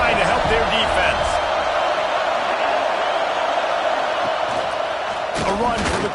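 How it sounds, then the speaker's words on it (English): Loud, dense stadium crowd roaring and cheering steadily at a Florida vs Central Michigan college football game, a sustained wall of noise with a commentator talking over it. "Listen to this crowd just shaking the girders of this place, trying to help their defense."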